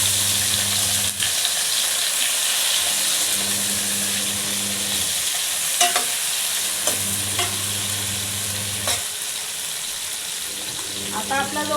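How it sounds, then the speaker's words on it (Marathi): Capsicum frying in a pan for Indian curry, a steady sizzle punctuated by repeated scraping stirs of a spoon against metal, with a low hum underneath. "त्यामध्ये शिमला मिर्च टाकायची, ती थोडीशी परतून घ्यायची।"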